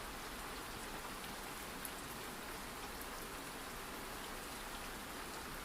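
Steady rain pours down through a stormy night, a dense, even hiss of drops on surfaces that carries on without pause for the whole stretch, with no voices.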